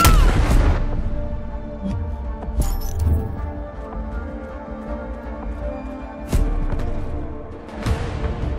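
Semtex grenade explosions in Call of Duty Black Ops Cold War multiplayer on Nuketown '84: two loud, close blasts, one at the start and one later, each with a deep rumbling tail over ongoing game noise.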